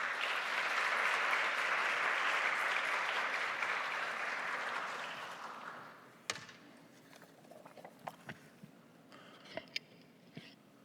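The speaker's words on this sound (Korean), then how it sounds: "따뜻한 박수로 목사님을 맞이하도록 하겠습니다." Warm applause from a young adults' Sunday worship congregation welcoming a pastor, dense clapping for about five seconds that fades away, leaving a quiet room with a few scattered knocks and rustles.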